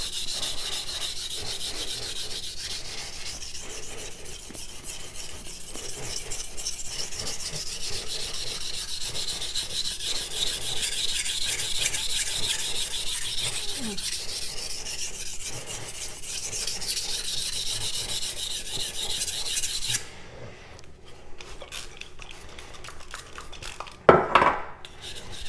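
Steady rhythmic scraping of a knife blade stroked back and forth across a whetstone, close and continuous, then it stops and a couple of brief knocks follow.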